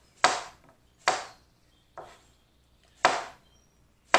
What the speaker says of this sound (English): And next, I'm just going to cut slices.